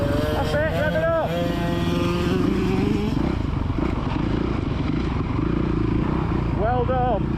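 Children's motocross motorcycle engine revving continuously at the Astley MX track, a loud sustained drone with rising pitch, while an adult coaches with brief shouts over the noise.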